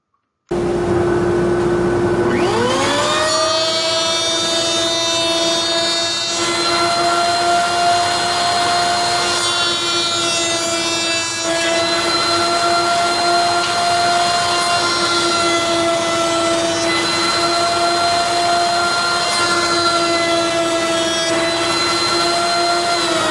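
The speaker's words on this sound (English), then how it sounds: "The lid profile is cut in multiple steps, multiple passes, to make sure that we minimize any chip out." A router cuts a profile on the lid of a wooden jewelry box, taking multiple passes with a backer board on the end grain. A loud, steady high-pitched whine with a strong tonal hum starts after about two seconds and runs unbroken to the end.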